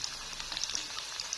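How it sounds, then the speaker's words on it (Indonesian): Frozen fried chicken frying in a pan of fresh oil over a low flame, a steady close sizzle with small crackling pops throughout. "Jadi aku goreng ya."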